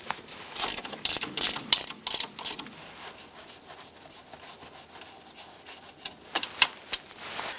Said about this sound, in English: Using our 15mm ratchet wrench, let's get those out.